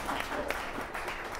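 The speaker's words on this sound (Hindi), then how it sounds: "ठोको ताली" An audience claps at a network marketing and direct selling talk, a short burst of steady applause that holds at one level.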